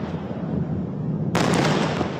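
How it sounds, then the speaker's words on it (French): A sudden, loud blast of broadband noise strikes in a Tel Aviv city center during missile fire between Israel and Iran, near the Defense Ministry where a residential building was hit, following a steady rumbling roar. "Explosion dans le centre de la ville."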